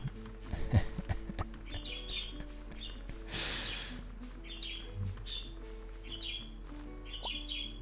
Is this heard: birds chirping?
yes